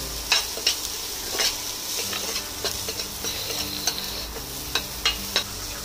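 Onions fry in a pan for a vegetable pasta dish, a soft steady sizzle broken by regular scraping clicks of a spoon stirring them, close and fairly quiet with no talking.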